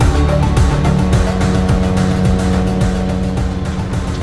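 A car driven in a Unity game demo, its engine revving loudly and continuously with rising and falling pitch sweeps, close and alone.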